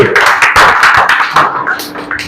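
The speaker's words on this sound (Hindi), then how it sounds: "अच्छा एक बार भाई बच्चों के लिए भी जोरदार ताली।" Loud applause for students at a school gathering, a dense burst of many hands clapping close by, steady for about two seconds before thinning.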